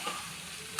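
Potatoes and jackfruit fry with spices in a pan, a faint, even sizzle with light stirring scrapes over a short moment.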